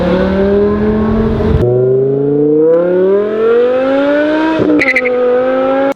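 A BMW E60 M5 with its V10 engine revs hard and close, its rising wail climbing through two gear changes with brief breaks between pulls, loud and without talk.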